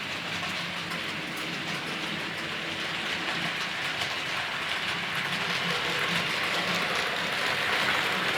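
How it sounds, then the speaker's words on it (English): A wholly electric Brighton Belle train passes as a steady, loud broadband roar and rumble that swells slightly toward the end, with no voices. "this was a wholly electric train"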